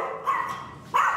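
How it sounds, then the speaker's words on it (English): Two sharp dog barks ring out close by, separated by a short pause, with no other sounds around them. "she does like to bark every once in a while when somebody comes to the door"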